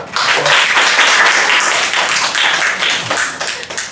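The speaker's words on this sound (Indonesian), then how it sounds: "Tepuk tangan buat." Close, loud clapping from an audience of university students after a talk on solfeggio, many hands beating in a brisk, dense burst that stays strong before tapering slightly at the end.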